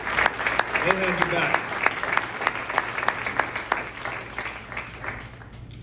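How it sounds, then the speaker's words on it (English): Graduation audience applauding at a music business program commencement, a loud burst of crowd clapping that slowly fades, with a speaker's voice briefly heard over it. "But give them a round of applause,"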